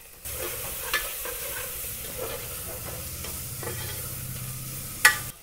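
Ginger garlic paste with green chillies frying in a pan for chicken pulav, giving a steady close sizzle with scattered spatula scrapes and one sharp clink near the end; no talking.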